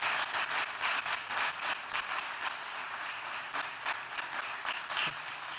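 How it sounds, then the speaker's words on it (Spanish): Steady audience applause, a fairly quiet wash of many hands clapping continuously with a few sharper individual claps standing out, no talking over it. "A todos un fuerte aplauso para la gente que lo ha hecho posible."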